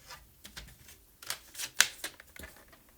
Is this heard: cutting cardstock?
yes